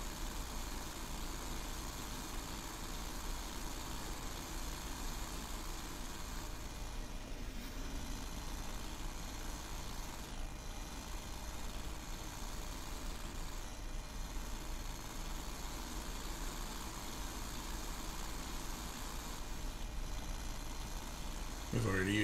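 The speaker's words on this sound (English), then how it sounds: "that engine sounds a little weird" A modded truck engine in the Snowrunner video game runs steadily throughout, a continuous droning rumble with a slightly odd tone.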